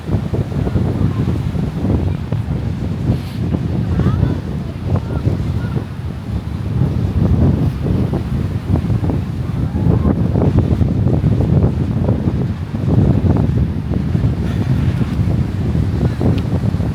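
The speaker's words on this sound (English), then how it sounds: "We got the water, raging water." Rough ocean waves surge and break on the beach at Kanyakumari, a continuous loud roar of surf mixed with heavy wind buffeting the microphone throughout.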